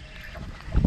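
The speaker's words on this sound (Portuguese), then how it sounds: "que vento, moço" Wind gusts over a fishing boat on a river while fishing for blue peacock bass, a steady low rumble of buffeting that swells louder near the end, with no speech.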